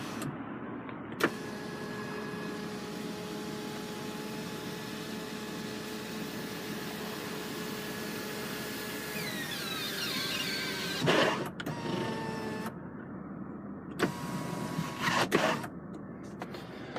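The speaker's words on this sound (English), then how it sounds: "Oh, no, it's not fixed. It's electric panoramic roof." The electric panoramic roof motor of a Nissan X-Trail 2.0 dCi diesel whirs steadily inside the cabin for several seconds. A few clunks and shorter motor bursts follow, with no talk.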